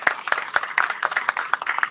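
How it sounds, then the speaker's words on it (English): Audience applause for the group Fiel: steady, fairly close clapping from a modest crowd, loud and uneven, with no talk over it. "Round of applause for them, por favor"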